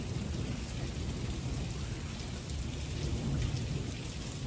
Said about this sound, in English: You can hear all this thunder around us right now.